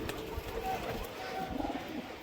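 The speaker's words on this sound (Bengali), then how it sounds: "দেখুন মালবাহী পায়রা।" Carrier pigeons from a breeding loft in Nabadwip give soft cooing calls close by while someone talks over them.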